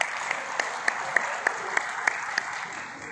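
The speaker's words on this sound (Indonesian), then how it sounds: "Boleh sekali lagi tepuk tangan ya" An audience at a health talk claps in a steady, even wash that lasts a few seconds. Individual hand claps stand out at a regular beat over the crowd sound, at a moderate level.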